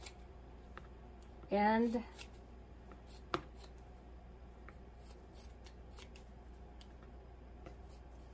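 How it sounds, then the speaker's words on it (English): Scissors trim excess fabric while a handmade gnome is being made, producing faint, sparse snips and clicks along with a brief spoken word. "And then we're going to cut the excess off."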